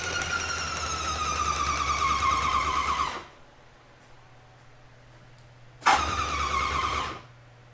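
A Titan 400 airless paint sprayer's pump motor runs loud and steady for about three seconds while pressurizing. It cuts to a low hum, then surges again for a shorter second burst.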